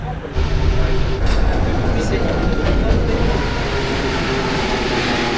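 Paris Metro train running through a tunnel, a loud continuous rumble and roar of wheels on rails with some rattling, steady throughout.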